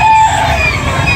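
Rooster at a busy gamefowl market in Carbon, Cebu, crowing loudly and close over a dense murmur of crowd noise and other birds, one sustained call filling the moment.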